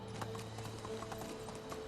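Horse hooves clip-clop steadily in the Medieval Dynasty video game, faint and continuous over a low ambient hum.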